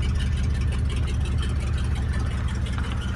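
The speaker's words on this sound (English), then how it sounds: "Sounds like it's got a bit of an exhaust." A car engine with quiet mufflers idles steadily with a low, rumbling exhaust throb, close by and constant throughout, with no one talking.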